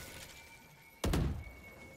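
A smoke grenade launches in a tactical shooter game with a single short, hollow thunk that stands out against a quiet background hum, then a faint lingering hiss.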